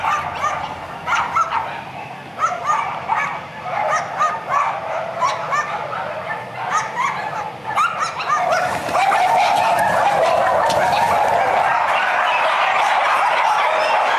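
Hundreds of caged dogs at a puppy farm bark, yip and whimper in a dense overlapping chorus. The sound swells into a louder, constant din partway through.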